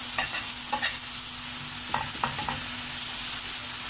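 Chopped onion and garlic with a little salt sizzle in a hot pan while being stirred, a steady close frying hiss broken by a few scraping stir strokes, with no talking.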